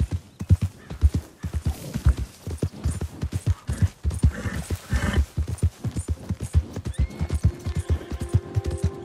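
Horse hooves clip-clopping in a steady, close trot in the Red Dead Redemption 2 video game, with a brief whinny and faint background sounds over the rhythmic hoofbeats.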